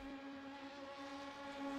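LMP2 prototype race car at Le Mans in a racing game, a steady, quiet, high-pitched engine drone holding through a 210 mph overtake, with no voices.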